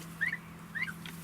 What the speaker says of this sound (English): And that's the way you move the turkeys while you're inside with them.